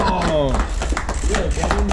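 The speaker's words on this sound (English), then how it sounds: "could we have another hand of applause for the two great players" A small audience at a steel court tournament gives scattered hand-clapping applause, with a voice talking over it for the short stretch.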